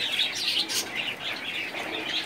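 Pigeons in a loft at afternoon feeding time make a steady stream of soft chirps and twittering, with a flutter of movement, close by and continuous.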